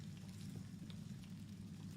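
Steady sizzling, crackling hiss inside a ship's engineering area in Star Citizen, a continuous low-level frying-like noise with faint pops throughout.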